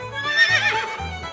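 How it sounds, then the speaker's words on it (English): A horse on a farm gives one high, wavering neigh that rises and falls over about a second, close and clear above a pulsing low background beat. "Horse."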